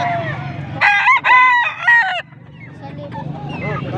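Stag gamecock crowing up close at a poultry sale in Pampanga, one loud drawn-out cock-a-doodle-doo over quieter background murmur and faint bird sounds.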